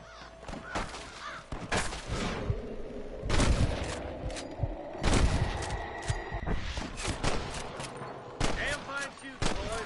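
Loud, close gunfire from Red Dead Redemption rings out in sharp shots and rapid volleys, mixed with cawing birds and other game sounds, with voices talking in between.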